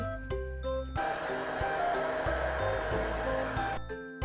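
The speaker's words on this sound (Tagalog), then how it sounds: "Blower time." A pet blower roars steadily as it dries a thin-coated dog's fur during a grooming session, starting abruptly after a second of quieter room noise and cutting off near the end, loud and close.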